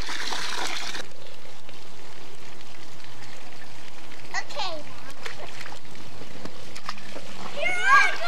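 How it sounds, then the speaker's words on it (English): Water splashes into a backyard pool at a family house, a broadband splashing burst at the start, then quieter trickling with a voice calling near the end. "I'm just putting more water in the pool."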